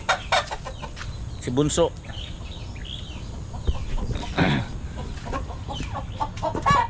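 Egg-laying hens, one white and one black, cluck and squawk close by in a backyard, with scattered calls and a short cackling burst, while a person talks briefly.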